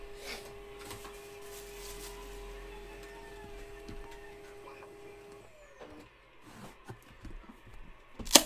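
A printer runs with a steady mechanical whir for about five seconds, then stops, followed by scattered handling clicks and a sharp knock at the end in a quiet room.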